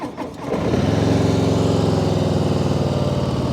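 A Harley-Davidson Breakout 117 motorcycle idles with its exhaust in stock form, catching as it starts and then settling into a loud, steady, lumpy rumble close by with no talking.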